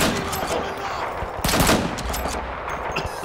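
Loud gunfire rings out in the tactical shooter Insurgency, sharp bursts and rapid shots cracking close by, one heavy cluster near the middle, over a noisy in-game backdrop.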